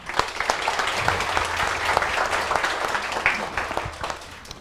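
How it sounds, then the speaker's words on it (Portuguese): Audience at a community education meeting applauds steadily for a few seconds, a dense wash of clapping with scattered sharper hand claps and a faint low hum underneath. "Uma salva de palmas para eles."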